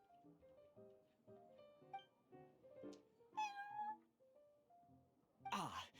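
A cat in the video game Genshin Impact meows several times, with short rising and falling calls near the end, over a soft, steady melodic game music background.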